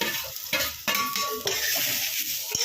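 Onion, tomato, ginger, garlic and dried coconut roast in a pan with a close, continuous sizzle, broken by the scrape and clink of a spoon stirring against the metal.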